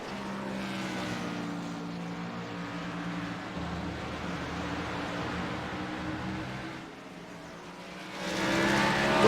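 Race car number 921 on a circuit during a lap, its engine droning steadily with a strong layered tone and a brief dip before surging louder at the end.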